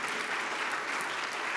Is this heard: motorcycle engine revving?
no